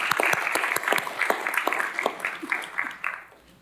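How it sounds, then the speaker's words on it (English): Applause at a city council meeting, a burst of group clapping with distinct claps that rings out for a few seconds and then tapers off near the end. "Sorry we're clapping before the vote"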